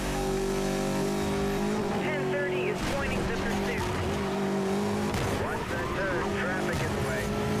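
Koenigsegg Agera racing in the video game NFS Most Wanted 2012, with a loud continuous engine drone and tire squeals and skids, and a voice talking over the racing.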